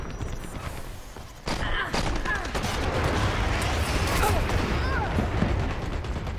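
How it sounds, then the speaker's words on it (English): Airstrike explosions in a video game: a dense, sustained barrage of booming blasts and rattling gunfire, loud and continuous after a brief lull. "Airstrike."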